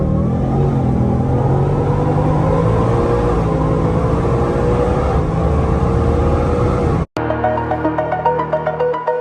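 A Whipple-supercharged 2024 Mustang 5.0 (S650) makes its first pull, a loud roaring engine climbing in pitch for several seconds before cutting off abruptly, followed by a lower, pulsing idle-like rumble.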